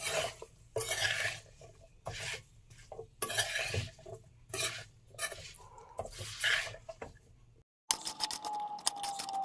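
Raw mango pickle being stirred, with spices worked through cut green mango in a bowl: repeated scraping, clattering strokes in uneven bursts, close and fairly loud, ending in a brief pause and a thin tonal scrape.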